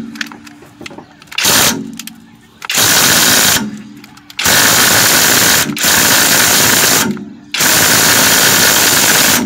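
A Kobalt 24V right angle impact wrench hammers at a car suspension bolt on a 2007 Sonata in loud, sustained bursts, each several seconds long, separated by brief pauses, with a harsh rattling mechanical chatter close to the listener.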